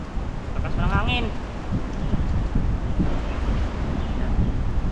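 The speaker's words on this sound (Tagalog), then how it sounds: "Lakas pa ng hangin." Strong outdoor wind buffets the microphone in steady gusty roars throughout, while a person talks over it near a cooking fire by the water.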